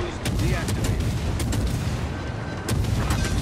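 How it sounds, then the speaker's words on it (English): An enemy destroyer blows up during a naval video game battle, heavy booms and overlapping gunfire rolling across the whole stretch, with sharp repeated blasts standing out over a dense, loud rumble. "Enemy destroyer blown up."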